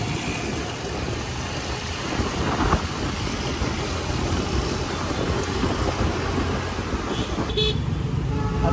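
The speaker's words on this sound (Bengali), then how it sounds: "আজকে জাস্ট রাস্তার জ্যামটা চেক করা যায়।" Road traffic jam recorded from a moving motorbike, with a dense steady roar of car and truck engines and wind close by, and a short honk of a vehicle horn near the end.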